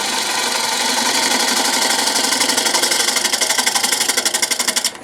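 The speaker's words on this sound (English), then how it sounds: "The lathe speed is about 800 RPMs." A wood lathe spins a bowl blank at about 800 RPM, giving a loud, steady mechanical whir with a fast rhythmic pulsing that speeds up slightly toward the end before stopping abruptly.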